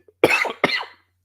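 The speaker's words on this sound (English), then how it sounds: "I had a cough there" Two close, sharp coughs from a man at a microphone, about half a second apart, each a short harsh burst in an otherwise quiet room.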